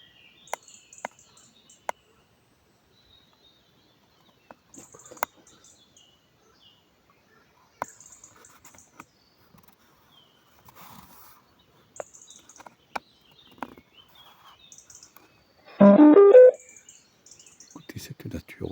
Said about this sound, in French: Ces oiseaux qui louent.